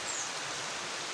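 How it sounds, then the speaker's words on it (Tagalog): Fairly heavy rain pours onto garden plants, including guava, as a dense, even hiss with no pauses or voices. "Kusog-kusog medyo ang ulan."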